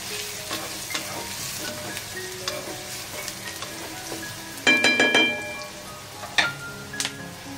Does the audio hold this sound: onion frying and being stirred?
yes